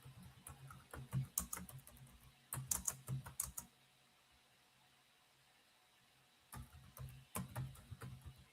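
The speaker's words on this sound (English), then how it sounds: "I'm just typing a prompt" Clicky computer keyboard typing heard close in quick bursts, two runs of keystrokes, a few seconds of near silence, then another flurry.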